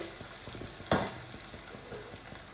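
Mustard seeds, urad dal and garlic fry in hot oil with a close, steady sizzle and crackle, punctuated by one sharp spattering pop.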